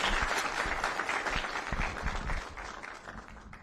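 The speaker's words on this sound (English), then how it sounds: "So a round of applause for the team." An audience claps steadily in a hall at a military retirement ceremony, dense applause that holds for several seconds and then gradually thins and softens.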